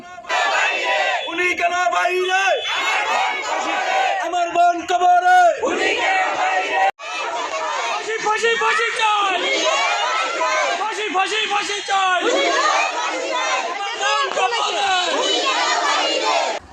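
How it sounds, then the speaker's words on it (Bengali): Crowd of protesters at a human chain rally in Sirajdikhan, Bangladesh, chanting slogans together in loud, rhythmic call-and-response bursts, with one brief break near the middle. "এ সময় তারা বিভিন্ন স্লোগান দিতে থাকেন"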